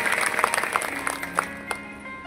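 Audience applause for Dada during a Shiv Mahapuran katha gathering, dense crowd clapping with sharper individual claps standing out over a steady wash, moderately loud throughout.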